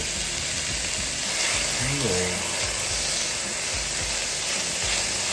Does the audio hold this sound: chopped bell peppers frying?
yes